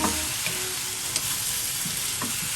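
Garlic frying in a hot pan, a steady loud dense sizzle throughout with a few faint clicks of stirring, close up and with no talking.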